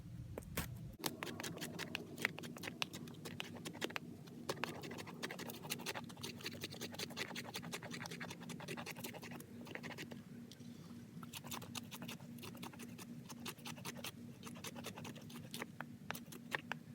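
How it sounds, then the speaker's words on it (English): A laminated Helle Skagan knife shaves bark off wood, giving a steady run of close, dry scraping strokes in quick, uneven rhythm, alone without talk. "This thing is shaving that bark off like crazy."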